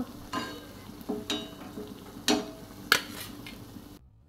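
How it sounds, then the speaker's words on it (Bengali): Potato chops frying gently in oil over a low-to-medium flame, a quiet sizzle broken by a few sharp crackles and spatters, ending in abrupt silence. "লো টু মিডিয়াম ফ্লেমে দিয়ে চপগুলো আমি আস্তে আস্তে সব ভেজে নেব।"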